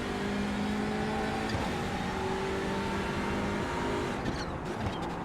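A race car passing during an endurance race at the Nurburgring circuit, its engine drone rising and sweeping by at a distance over constant background noise, with no talk.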